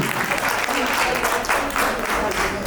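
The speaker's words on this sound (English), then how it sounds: "put your hands together one more time" A crowd applauding steadily at a nursing school alumni anniversary event, dense clapping throughout, fairly close and loud.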